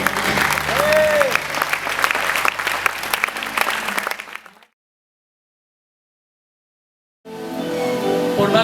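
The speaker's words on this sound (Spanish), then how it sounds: "Dele un fuerte aplauso al Señor." A church congregation at a worship conference applauds loudly with crowd noise for about four seconds, then falls silent for nearly three seconds before full, sustained sound resumes.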